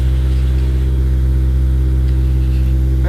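A Honda S2000 idles and revs as it is brought out of a garage on a very cold day, a loud, steady engine drone with a deep rumble that holds throughout.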